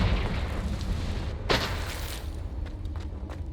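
A Confringo spell in Hogwarts Legacy goes off amid a rumbling game soundscape, one sharp burst landing mid-clip, followed by a few fainter crackling pops.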